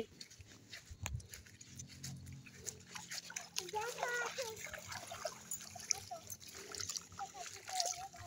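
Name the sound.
walking slowly through flood water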